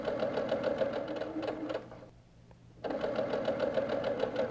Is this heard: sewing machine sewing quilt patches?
yes